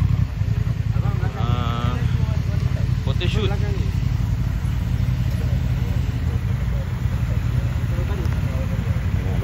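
Several motorcycles, including a Honda Transalp XL750, idle and shuffle into position at a mountain stop, a steady low engine rumble running throughout while people talk over it.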